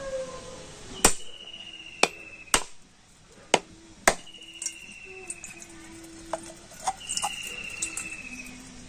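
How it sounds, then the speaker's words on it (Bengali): A whole coconut is struck hard several times to crack it open, giving sharp, loud, separate knocks spaced about a second apart, with quieter taps and scraping between them in a quiet kitchen. "প্রথমে আমি নারকেলটা ফাটিয়ে নেবো"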